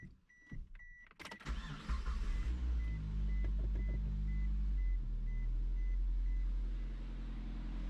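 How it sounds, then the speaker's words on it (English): A 2005 Suzuki Aerio with a failed alternator and dead battery cranked on a jump box: a few warning beeps and clicks, then the engine catches and settles into a steady low idle while a chime keeps dinging at regular intervals. "We're going to go ahead and give it a jump start since my battery died when my alternator quit charging"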